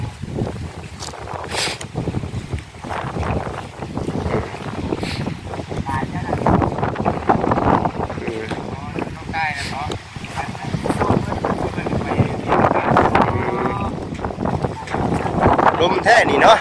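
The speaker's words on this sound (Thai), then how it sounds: "ลมแท้นี่เนาะ" Strong outdoor wind buffets the microphone in loud, rumbling gusts that surge and ease throughout, mixed with people talking nearby.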